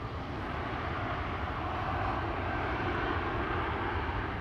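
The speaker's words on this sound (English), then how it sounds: "ITA already spooling up." An ITA Airways jet at Amsterdam Schiphol spools up its engines, a steady broadband roar that holds fairly constant at moderate distance, alone without voices.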